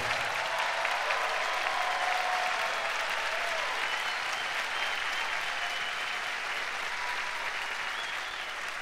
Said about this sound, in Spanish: a quien quiero que reciban con un aplauso